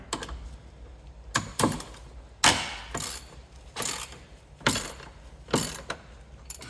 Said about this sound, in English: As these are old bolts, I'm going to do these by hand.